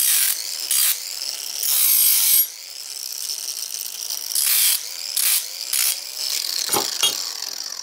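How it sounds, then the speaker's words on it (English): Harsh scraping strokes come from deburring a cast three-cavity ingot mold, in loud separate bursts with short pauses between them and no speech. "just kind of get rid of the burrs a little bit"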